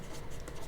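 A pen or pencil scratches quickly across paper while working a math problem, with faint, rapid, close strokes and no voices.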